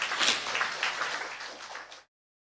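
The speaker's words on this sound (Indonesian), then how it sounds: "Tepuk tangan buat Tuhan dulu yuk sebentar yuk" Church congregation at a Sunday worship service clapping together, a dense burst of applause that fades briefly before cutting off.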